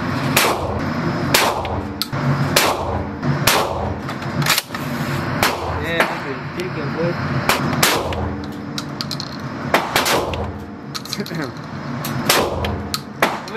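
Gunshots at an indoor shooting range, with sharp bangs repeating at irregular intervals, some loud and close and others more distant, over ongoing room noise and talk.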